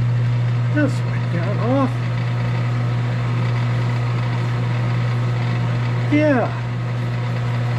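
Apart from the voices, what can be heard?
Sunnen honing machine running at a couple hundred RPM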